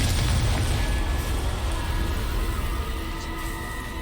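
A Confringo explosion spell goes off in the video game Hogwarts Legacy: a loud, deep, rumbling blast that fills the start and slowly decays over about four seconds.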